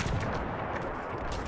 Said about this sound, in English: that's enemy machine gun fire.